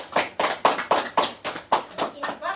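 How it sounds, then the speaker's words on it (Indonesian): Classroom students clap for a winning group, the applause coming as a rapid series of sharp, regular bursts about twice a second, fairly close and loud. "tepuk tangan untuk kelompok 3"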